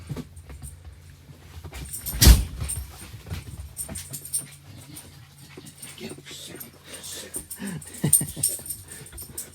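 An excited dog whines, whimpers and pants close by in a vintage bus interior, with irregular bursts of panting and a loud bump partway through.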